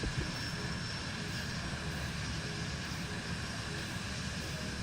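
A Vision Jet G2 engine in Microsoft Flight Simulator 2024 drones continuously in cruise, a steady, even roar with constant high whine, quiet and unbroken, without speech.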